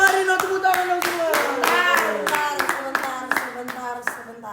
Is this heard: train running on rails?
no